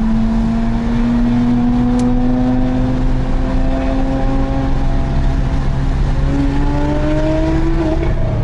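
A Porsche Carrera GT on a race circuit during the 2019 Rallye de Paris revs hard and steadily. Its engine note climbs continuously and stays close and loud throughout, with no talking.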